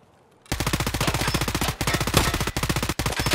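Automatic gunfire in Escape From Tarkov, a loud close burst of rapid rhythmic shots that runs almost unbroken for about three seconds, with brief pauses between strings of rounds.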